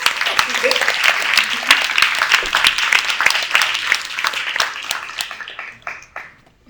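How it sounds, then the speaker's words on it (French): Applause for a speaker at a 2023 symposium, a dense wash of many hands clapping close by that thins and fades out toward the end, with a voice briefly audible underneath. "Une petite main d'applaudissement s'il vous plaît pour Sarah"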